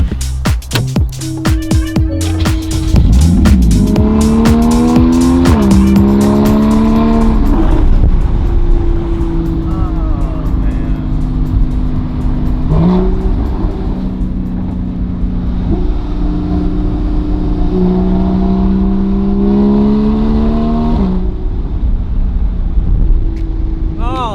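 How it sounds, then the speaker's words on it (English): Porsche Cayman GTS, rebuilt, driving and accelerating, the engine note climbing through several rising pulls with gear changes, loud and close throughout. "Let's hop in the Cayman and get going."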